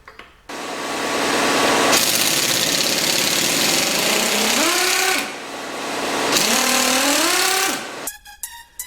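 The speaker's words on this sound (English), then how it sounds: "An air impact wrench sure makes quick work of unwinding the 17mm bolts securing the automatic flex plate to the crankshaft" An air impact wrench on a SAAB 900 loudly hammers out the 17mm bolts holding an automatic's flex plate to the crankshaft, in two long rattling bursts, each ending with a rising, whirring spin-up as the bolt frees.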